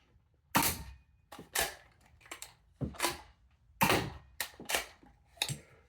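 A plastic Nerf shotgun is pumped over and over as its shells eject: about eight sharp, close clacks, several in quick pairs, with short silences between them and no voices.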